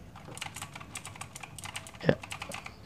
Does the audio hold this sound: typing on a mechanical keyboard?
yes